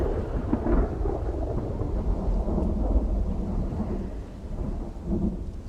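Video game thunderstorm during a snowstorm in Project Zomboid: deep, continuous rolling thunder with a dense rain-like wash, loud and unbroken, with no voices.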